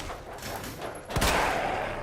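A single loud, close gunshot at a zombie in Resident Evil 2 Remake cuts through a dense, noisy game backdrop, followed by a brief rumbling tail.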